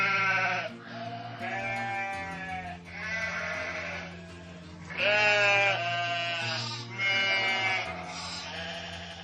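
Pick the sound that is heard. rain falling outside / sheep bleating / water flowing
sheep bleating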